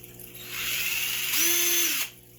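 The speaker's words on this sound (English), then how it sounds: "we'll want to drill holes in this too" A power drill whines as it bores holes into a blue plastic cap from a DIY aquarium fluidized sand filter, running in two close bursts with a pitch that rises under load before stopping.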